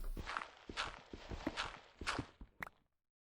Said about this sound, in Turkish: Ben sürekli ayak sesi duyuyorum